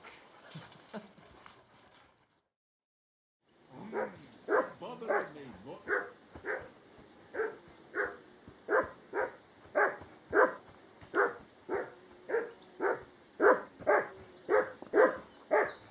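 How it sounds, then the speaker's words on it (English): A dog in the video game Kingdom Come: Deliverance 2 barks loudly and repeatedly at a steady rhythm, about twenty sharp barks following a few quieter sounds and a brief silence. "Call off that damn dog before he wolfs down the last of our mates"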